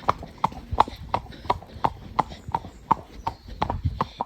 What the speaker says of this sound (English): He's dropped down from trot to walk.